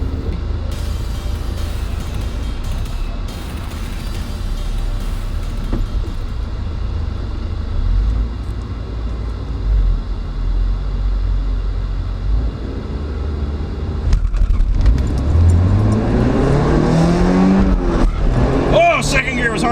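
A Porsche 944 accelerating down a drag strip, its engine a steady loud drone that climbs sharply in pitch near the end as revs build, with some voice mixed in.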